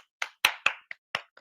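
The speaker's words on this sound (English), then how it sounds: "So let me give you guys a round of applause." A few people clapping hands on a podcast, six sharp, separate claps in an uneven rhythm, close and dry in a quiet room, with no talking.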